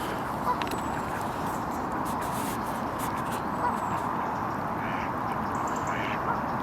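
Muscovy ducks quacking at Westport Lake, faint and occasional calls over a steady wash of outdoor background noise.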